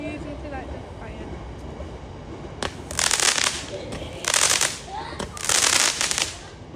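Small fireworks go off in three bursts of loud crackling, each lasting about a second, near and sharp over quieter background noise.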